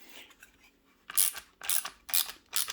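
A ratchet works a bolt loose on an Average Joe 552 and 1090 fix kit, its sharp clicking bursts coming in four spaced, close-up runs after a near-silent start.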